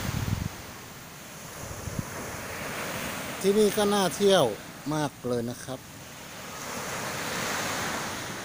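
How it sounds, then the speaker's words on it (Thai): Sea waves wash steadily onto the sand at Khao Phrai Dam beach in Sichon, Nakhon Si Thammarat, with wind buffeting the microphone; someone speaks briefly over the surf midway through. "ได้ยินแต่เสียงคลื่น"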